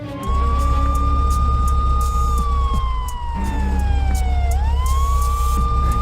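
A police car siren wails loudly and close, its long rising and falling tone sliding slowly down and then sweeping back up over a deep idling vehicle rumble.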